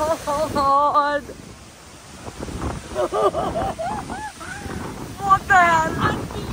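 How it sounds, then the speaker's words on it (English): A waterfall roars and sprays close by as a steady broadband wash of water noise, with excited voices talking over it throughout. "That waterfall literally just spat on me."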